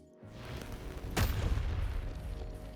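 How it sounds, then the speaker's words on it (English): An explosion in Wuthering Waves lands as a sudden deep boom about a second in, followed by a rumbling, crackling tail over a steady background drone. "It literally just exploded."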